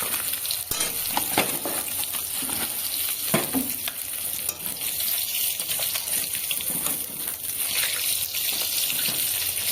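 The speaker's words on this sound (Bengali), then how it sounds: "তো বন্ধুরা দেখো মাছটা একটু নেড়ে নিচ্ছি" Fresh kal baush fish fry in hot oil while being turned, producing a loud, steady sizzle with occasional scraping stirs close up.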